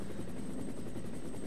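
A helicopter's rotor chops in a fast, steady rhythm, heard faintly and alone at a low level, in the Resident Evil Director's Cut video game finale.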